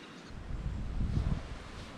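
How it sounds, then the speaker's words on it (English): Gusts of wind blow at a lakeside campground on Lake Waikaremoana, New Zealand, a soft low buffeting roar that swells in the middle and then eases, faint and steady with no voices. "It's a little windy here."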